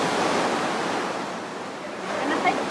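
Surf breaking on a seaside shore, a steady broadband wash of waves heard at moderate distance with a slight swell near the end, no voices over it.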